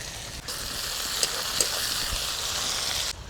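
Chopped onion drops into hot oil with cumin and a bay leaf, setting off an even, steady sizzle with a couple of small crackles.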